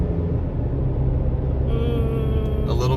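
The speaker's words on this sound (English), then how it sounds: "It sounds like you're riding in a truck." Road and tire noise inside a 2023 Chevy Colorado pickup on off-road tires: a steady low rumble fills the cab throughout, with faint tonal sounds joining in the second half.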